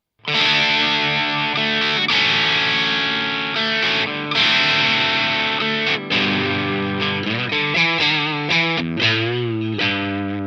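Electric guitar driven through a Walrus Audio 385 MkII overdrive pedal, playing a continuous run of overdriven chords and riffs with a thick, sustained, distorted tone, loud and close with no talking.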